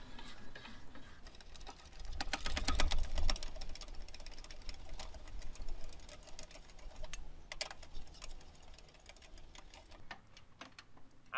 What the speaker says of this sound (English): using our handy dandy little tool, we'll set it right on there and crank clockwise to crank them down.